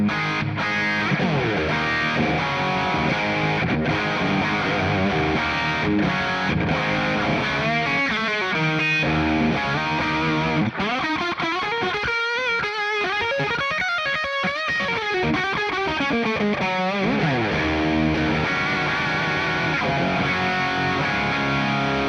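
Electric guitar on the bridge pickup played continuously through an amp with a pedal engaged, giving a thick, driven tone with fast riffing and sustained, bending lead lines.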